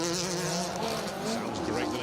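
A Subaru Impreza rally car with front-end damage and a missing headlamp, its engine buzzing steadily with a high, droning tone at a rally stage, loud and continuous.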